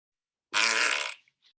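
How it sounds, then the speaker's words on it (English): A fart sound effect, one loud close blast of about two-thirds of a second with a raspy buzzing tone, then a tiny sputter trailing after it, with no voices. "Farting is so common that there are different kinds of farts."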